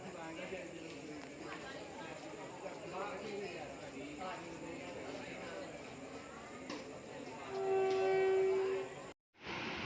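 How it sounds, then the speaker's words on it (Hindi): Train arriving at Roorkee railway station amid a busy platform with crowd chatter, a loud horn blaring near the end. "हम पहुँच गए हैं रेलवे स्टेशन और अब हमारी ट्रेन आने वाली है।"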